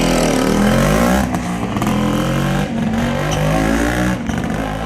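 A motorcycle engine revs loudly up close, rising and falling with a few throttle blips, no voices.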